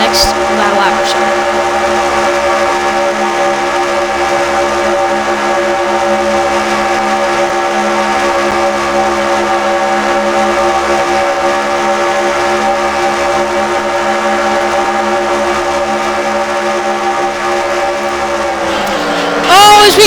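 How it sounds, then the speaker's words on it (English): IndyCar engines drone loudly and continuously through a lap at Daytona in a racing video game, a steady layered whine that holds level before shifting near the end, with voices under it. "let's go engine fired, and let's listen to these engines go for the next lap or so"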